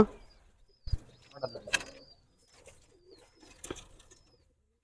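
A racing pigeon gives soft, intermittent coos with a few sharp clicks and a possible wing flutter in a quiet space, with faint background sounds between calls.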